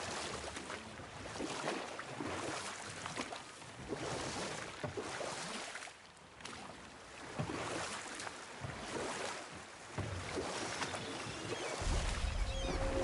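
Rowing a boat in the video game God of War: oars push through water in slow repeated swishing strokes over a constant wash of waves and wind, fairly soft and without talking.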